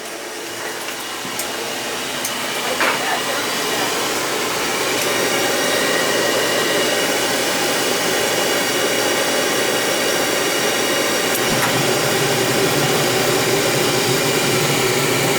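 An oil furnace burner fires and settles into a steady, loud roaring hum that holds close and constant, with a few faint clicks near the start.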